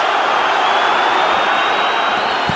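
A boxing arena crowd cheering for Manfredo, a dense, loud, steady roar of many voices filling the space without pause.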